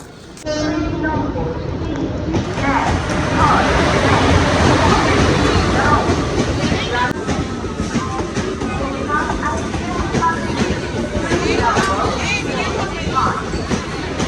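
The 13187 Matara Express pulls out of Naihati station with a loud, continuous rumble of wheels and carriages and faint rhythmic clatter, sustained and close throughout.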